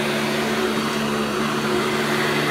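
A vintage Hoover vacuum cleaner running steadily on carpet, a loud, close, continuous motor whine with a low hum, no talk.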